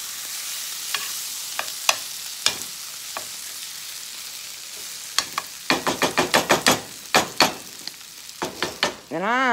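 A spoon scrapes and stirs BBQ filling in a hot pan, making scattered clacks at first, then a quick run of rhythmic scraping strokes and a final clatter, close and loud over a faint sizzle, with no talking.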